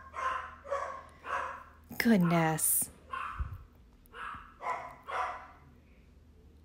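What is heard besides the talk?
dogs barking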